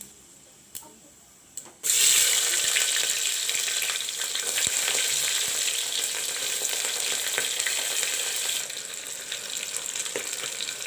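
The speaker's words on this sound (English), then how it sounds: "Onions are turning golden brown." Onions dropped into hot oil with panch phoron, a couple of soft knocks, then a sudden loud hissing fry that holds steady and eases slightly toward the end, close up.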